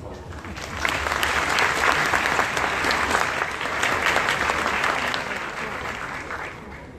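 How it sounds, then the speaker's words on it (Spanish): An audience at a university welcome ceremony for new students applauds, a dense, loud, sustained clapping that lasts the whole stretch and eases slightly at the end. "Aplausos, por favor."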